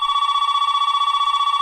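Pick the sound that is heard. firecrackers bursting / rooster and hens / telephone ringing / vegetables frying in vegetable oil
telephone ringing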